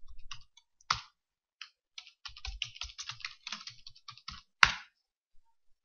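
A password is typed on a computer keyboard: irregular runs of crisp, close key clicks with brief pauses, ending in one louder keystroke like a press of the enter key.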